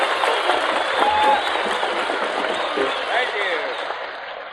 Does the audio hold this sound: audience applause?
yes